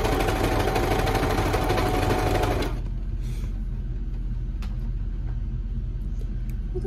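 A sewing machine stitches a knit tee for about three seconds in a fast, loud mechanical whir, then stops, leaving a quieter hum.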